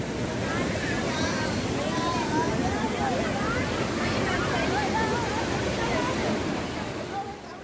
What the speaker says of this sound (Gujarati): પહાડોની કોતરોમાંથી ફીણની સફેદ ચાદર ઓઢી વહેતા ધોધના જળપ્રપાતમાં પ્રવાસી નાહી